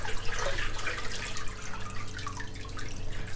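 Koi and water poured from a bucket into a 110-gallon backyard pond, a continuous rushing splash and gurgle of water with a low steady hum beneath.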